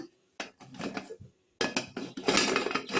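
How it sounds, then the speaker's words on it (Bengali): Steel clatters as a tiffin box is set into a pressure cooker and the lid is placed on, giving sharp metallic knocks and scraping clinks in two bursts with a pause between, close and fairly loud. "এবার প্রেশার কুকারের মধ্যে এই টিফিন কৌটোটা আমি বসিয়ে দেব বসিয়ে দিয়ে আমি ঢাকা দিয়ে দেব"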